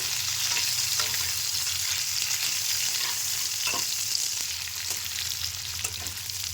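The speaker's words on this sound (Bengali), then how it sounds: "আদা বাটাটাও মশলার সাথে দিয়ে আমি একটু কষিয়ে নেব" Ginger paste, spices and chopped tomato fry in a pan with a dense, continuous sizzle, steady and close, now and then softly stirred.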